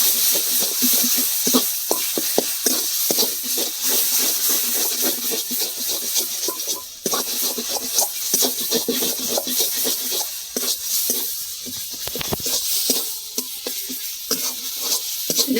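Spices with chili powder fry in oil in a pan, a continuous bright sizzle with a spoon stirring and scraping through it, close and fairly loud throughout, with no talking.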